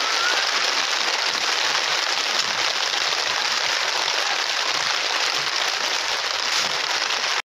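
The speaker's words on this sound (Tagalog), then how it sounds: "Ay, nabutan tayo ng ulan" Steady heavy rain pouring down on a surface, a dense, even hiss that stays loud and unbroken throughout, with no voices.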